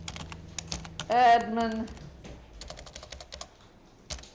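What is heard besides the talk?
typing on a computer keyboard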